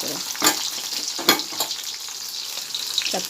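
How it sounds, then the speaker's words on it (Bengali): Thin round slices of ash gourd, rubbed with salt, turmeric, chili and a little sugar, sizzle steadily in hot oil, with soft stirring clicks in the foreground and no talking. "এবার ভাজা হচ্ছে।"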